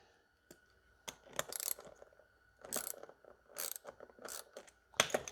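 A wrench tightens the bolts on a mini bike wheel in short bursts of ratcheting clicks, several separate spurts with quiet gaps between them, close and fairly soft.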